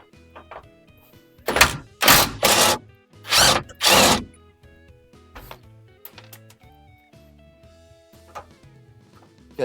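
Tools work loose the transmission cross member on a 1988 K5 Blazer with a 6.2L diesel: several loud, close buzzing bursts of a power tool, followed by scattered metallic clunks and taps.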